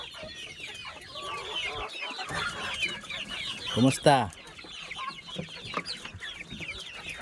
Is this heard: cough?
no